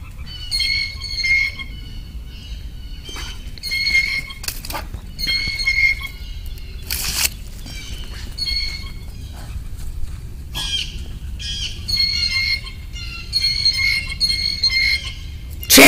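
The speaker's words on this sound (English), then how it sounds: "Where'd that bird go, huh?" A bird in the trees squawks repeatedly in short, harsh bursts that come in uneven groups throughout, heard outdoors at moderate distance.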